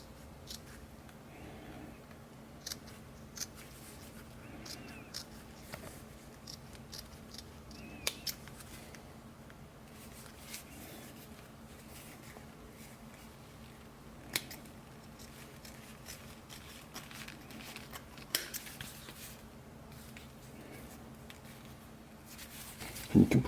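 Scissors trim fabric near the plastic brim piece of a military patrol cap, producing sparse, quiet snips and small cuts scattered over a long, hushed stretch, ending with a few louder clicks.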